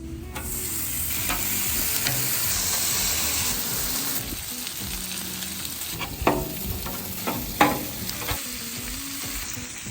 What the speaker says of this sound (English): We're gonna throw down a couple slices of bacon, and we're gonna start get our sausage going.